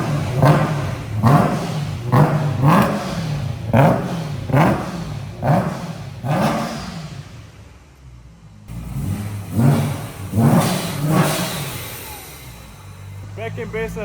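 Supercharged BMW E90 M3 with a custom all-titanium exhaust, revved hard in a run of sharp, loud blips that each rise and fall, then a short lull before more revs, with people talking over it.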